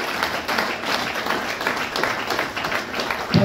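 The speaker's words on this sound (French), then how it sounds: "il est réservé 1 minute d'applaudissement à notre chère Florida, qui est la présidente de cette association" Audience applause at a ceremony launching autism awareness week in Cameroon, a dense, sustained burst of many hands clapping in a crowd, moderately loud and continuous.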